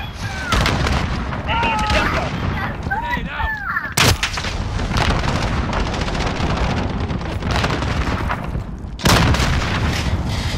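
Grenade explosion and rapid gunfire in the multiplayer shooter game Shoothouse, heavy booming blasts and dense continuous shots throughout, with a sharp loud burst near the middle and another later, under occasional player talk.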